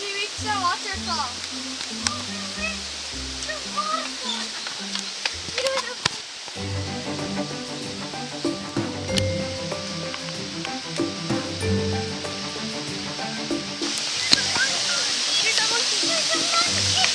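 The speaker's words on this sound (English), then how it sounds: "we reached the waterfall" Minoh waterfall in Japan roars as a steady broadband rush through the whole scene, with people talking and a voice over it and the water noise swelling louder near the end.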